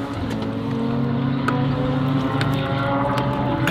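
BMW M2 driven hard around a race track, a loud steady engine drone with a low humming tone heard from inside the car, continuous and unbroken.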